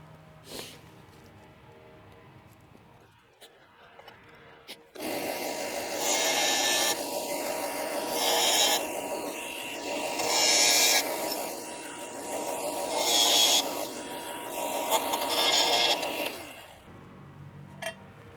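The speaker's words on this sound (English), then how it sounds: "So we'll try to sand this down here real quick." A cut metal spacer for a 2015 Subaru WRX front end link being sanded down, a steady loud abrasive grinding whine running for about twelve seconds after a quiet start, rising and dipping as pressure changes.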